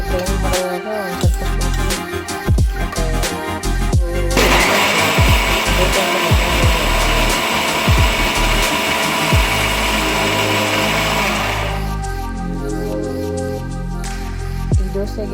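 An electric mixer grinder runs loud and steady for several seconds, with a continuous whirring drone, framed by shorter clattering bursts as it starts and stops.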